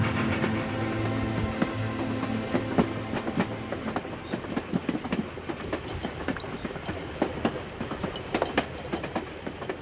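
A train runs along rails on a journey to Paris, with a steady rolling rumble and repeated clickety-clack wheel beats that continue through the whole stretch.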